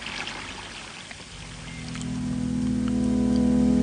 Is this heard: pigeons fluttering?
no